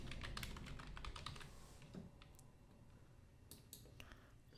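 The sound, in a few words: computer keyboard keys being pressed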